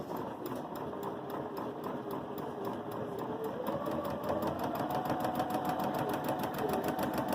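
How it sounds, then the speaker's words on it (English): A Baby Lock Jazz II sewing machine stitching a one-step buttonhole, a steady rapid mechanical whir with regular needle clicks running continuously and close, with no talking. "It's a one-step buttonhole, so it should do everything for us."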